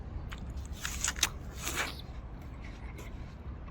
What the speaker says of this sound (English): I'm just gonna sit here, enjoy my apple, then get back to work.